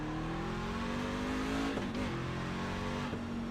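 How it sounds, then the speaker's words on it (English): A pickup truck engine in the iRacing sim, sounding like a diesel, drones steadily with a low, rough, continuous tone and brief pitch wobbles as the revs shift, loud and alone with no voices. "my truck sounds like it's running diesel."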